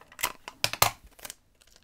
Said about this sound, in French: Je mets du scotch de masquage